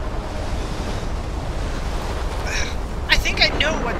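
Roaring storm wind and surging waves in Life Is Strange, a steady loud rush of wind and surf with brief voices or cries near the end.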